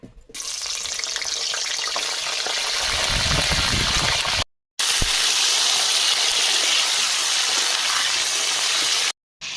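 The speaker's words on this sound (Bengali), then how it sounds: "কড়াতে সাদা তেল দিয়ে দিচ্ছি ফুলকপি ভেজে নেব তেল গরম হয়ে গেছে ফুলকপি দিয়ে দেবো" Cauliflower florets frying in hot white oil in a wok, a loud, dense, close crackling sizzle that runs steadily with two brief breaks.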